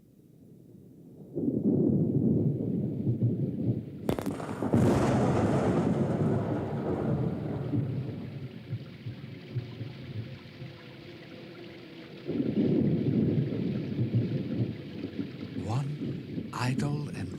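Rain and a thunderstorm rumble through a period drama adaptation of The Scarlet Letter: a heavy, surging wash of rain and wind, with a sharp crack of thunder near the start and a second loud swell later.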